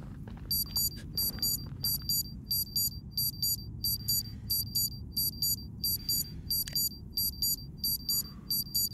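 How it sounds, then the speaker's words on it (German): A repeating electronic alarm system from the game Pine Harbor, loud stacks of high beeps pulsing in a steady rhythm throughout over a low rumbling background. "Ist das eine Alarmanlage quasi?"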